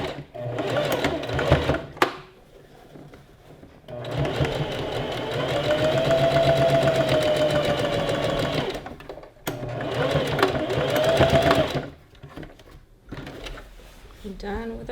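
A sewing machine stitches the waistband of a gathered skirt in several close, rapid whirring runs. Short pauses separate the runs, with one long steady stretch of stitching in the middle.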